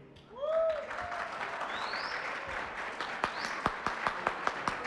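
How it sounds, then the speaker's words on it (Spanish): Show audience applause on a elimination-style program, starting with a swell of voices and whoops, then thinning into a few distinct, regularly spaced claps toward the end. "Voy a empezar con aplausos para Anel."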